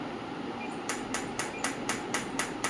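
A PEMF loop therapy machine turned up to a higher intensity setting gives a series of sharp, evenly spaced hissing clicks, about eight pulses in quick regular rhythm over a steady low hum, with no talking.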